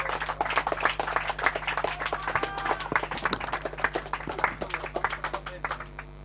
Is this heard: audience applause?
yes